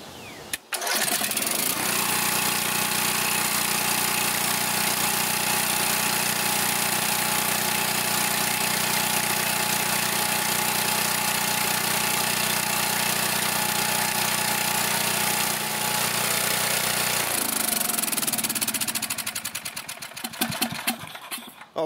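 A Coleman Vertex 7500 watt generator with low power output, its engine starting and running at a steady loud drone, then winding down and sputtering to a stop.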